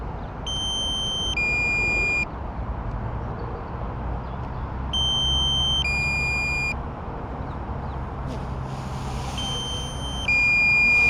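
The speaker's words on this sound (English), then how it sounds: "Beeping started, so look at that." A drone's warning beeps sound as repeated two-tone electronic bursts every few seconds over a steady whirring hum and light wind, in Brentford, London.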